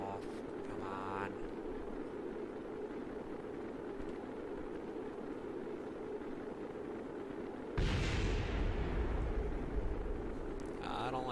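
Loud rushing roar of a spacecraft plunging through atmospheric reentry in Kerbal Space Program, a steady low rumble that swells abruptly into a brighter, heavier blast-like burst near the end, with no talking.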